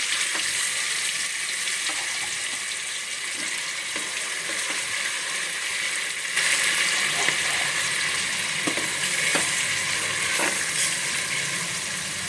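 Ground masala paste sizzles and crackles in hot oil for a village-style mutton rassa, a steady close frying hiss with occasional scraping stirs that grows louder midway.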